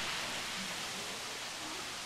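Rain in the video game Jurassic World Evolution: a soft, continuous hiss of steady rainfall, faint and even throughout with no other sounds.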